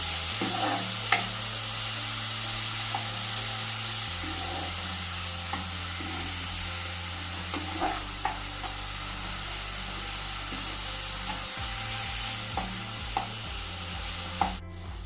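Chopped onions frying slowly in a pan over a low gas flame for paneer bhurji, giving a steady gentle sizzle with occasional stirring clicks, set over a constant low hum.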